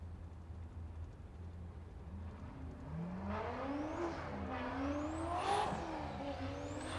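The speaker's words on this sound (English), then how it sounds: "If we see Adriano pull up to the line right now, Kenrick Meyer, that BMW." A BMW drift car on a Formula Drift Pro 2 qualifying run at St. Louis revs hard from about three seconds, its engine pitch climbing and dropping through several shifts. Tire noise swells under a steady crowd and track rumble.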